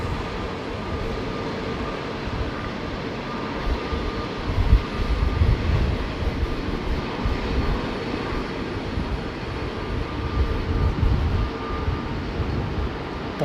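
An Airbus A380 taxiing at London Heathrow on a windy day gives a continuous loud engine roar with a steady whine, rising and falling slightly over time, with no talk.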